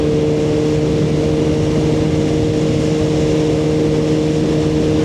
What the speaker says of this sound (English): So there's something to be said about a loud exhaust. It sounds awesome